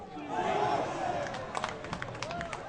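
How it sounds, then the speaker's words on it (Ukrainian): Spectators applaud at a Dynamo versus Kolos friendly football match: a crowd roar swells, then scattered claps break through under a voice. "Оплески глядачів цілком заслужені"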